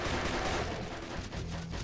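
Enemy gunfire in a video game, a dense, continuous burst of rapid shots that fills the short stretch at steady loudness.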